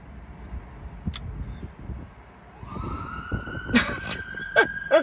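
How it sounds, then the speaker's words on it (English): An emergency vehicle siren wails at a distance, a steady rising tone entering midway and holding, faint beneath light background sounds and a few brief vocal noises. "is that another siren?"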